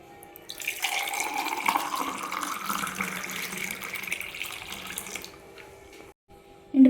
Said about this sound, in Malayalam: ജ്യൂസ് ഒഴിച്ചു കൊടുക്കാം.